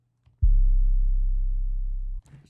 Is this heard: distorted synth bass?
yes